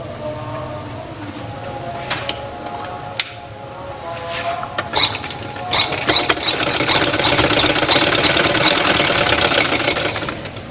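A sewing machine stitches fabric while attaching dori magzi cord piping, running as a steady mechanical whir with rapid needle clatter that grows louder and more continuous in the second half.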